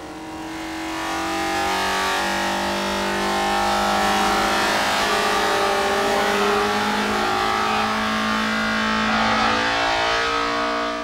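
A 1996 Vauxhall Vectra British Touring Car Championship race car engine revs hard and high, a loud sustained howl with rising and falling pitch that holds near the top of its range throughout, with no voices over it.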